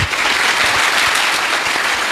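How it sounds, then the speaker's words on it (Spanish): Audience in a parish church applauding, a dense steady clapping that fills the space at close range for about two seconds, with no voices standing out. "Aplauso pues para el hermano."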